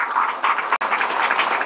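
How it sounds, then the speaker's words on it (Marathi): An audience at a Guru Purnima satsang gathering claps loudly, a dense, continuous patter of many hands with a brief dip partway through. "एकदा जोरात टाळ्या व्हायला पाहिजे."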